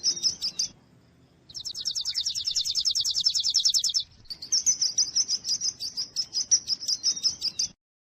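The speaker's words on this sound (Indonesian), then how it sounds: "Burung." Small birds chirping in rapid high trills and tweets, with a fast buzzing run of notes in the middle and steady repeated chirps afterward, close and clear with no voices.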